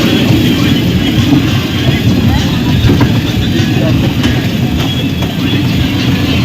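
Steady rumbling of an amusement park train ride with a constant low roar, heard from on board, with faint voices mixed in throughout.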